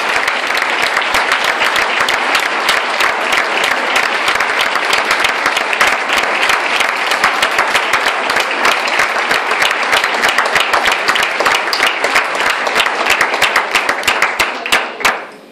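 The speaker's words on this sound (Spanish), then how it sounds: "brindémosles otro aplauso para que se sientan más relajadas" Sustained applause from a festival audience at the town proclamation of the Barrial de Gáldar fiestas, dense rapid hand clapping held loud and steady for about fifteen seconds before tapering off at the end.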